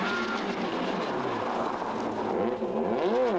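A 2001 rally car at the West Cork Rally in 2003 drives past, its engine note sweeping and rising in a continuous rushing roar at moderate distance.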